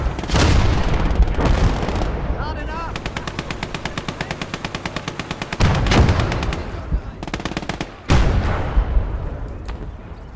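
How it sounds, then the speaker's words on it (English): Heavy artillery fire in the World War II strategy game Legion of the Damned: loud booming blasts mixed with long rapid machine-gun rattles, close and dense, with a voice speaking over the shooting. "We're just going to use heavy artillery."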